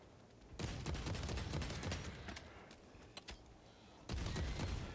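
Enemy fire rattles in bursts in Warhammer 40k Space Marine 2, dense rapid volleys at moderate distance, pausing briefly before a fresh burst.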